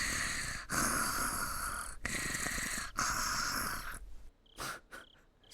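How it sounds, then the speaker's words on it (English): A young character in the video game Higurashi When They Cry snores softly, in three long sustained breaths followed by a quieter pause with short, brief sounds. "She snores so cutely."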